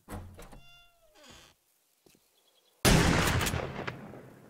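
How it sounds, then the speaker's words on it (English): A single loud gunshot goes off in the survival game 7 Days to Die, a sharp blast with a decaying tail that follows a few softer thunks and clicks over a quiet background. "Pop off a shot."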